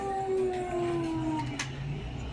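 A dog howls in long, drawn-out tones that slowly fall in pitch, fairly close, with a low rumbling background throughout.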